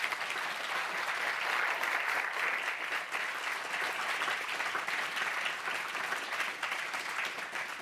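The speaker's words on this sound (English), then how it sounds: "please a big round of applause to the first 10." An audience at an AI innovation awards event applauds steadily and loudly for about eight seconds, a dense, even clapping with no talk over it.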